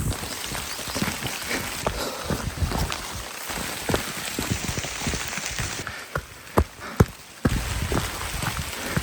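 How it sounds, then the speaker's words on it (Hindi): Steady rain pattering on a surface during a mountain trek near Abbottabad, a dense continuous patter with scattered louder drops and a few sharp close knocks, no voices. "बारिश तेज होती जा रही है।"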